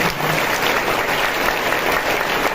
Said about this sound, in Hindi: जोर से ताली बजा के प्रभु का धन्यवाद